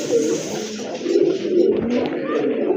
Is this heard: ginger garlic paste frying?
no